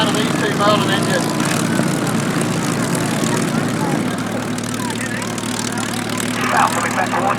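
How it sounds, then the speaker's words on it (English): Two Merlin piston engines on a vintage aircraft at an RAAF Museum flying display drone steadily as it passes, a loud, continuous propeller rumble that holds for the whole stretch with faint voices underneath. "And I'll let you listen to the beautiful sound of these two Merlin engines."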